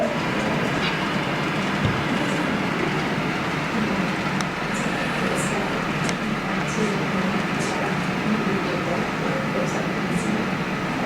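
A garden railroad model train runs at a museum, giving a steady, continuous rolling rumble with faint clicking over the rails, and a voice is audible softly under it.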